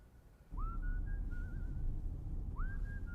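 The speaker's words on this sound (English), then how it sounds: "You are whistling." A person whistles behind the wheel of a car: two rising, sliding tones with a wavering held note between them, moderately near over a low, constant engine rumble.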